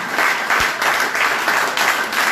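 A church congregation applauding and cheering in worship, with steady crowd clapping in rolling waves that rise and fall throughout.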